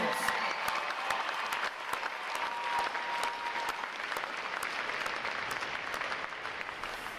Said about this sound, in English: how about another round of applause for our award-winning individuals and divisions?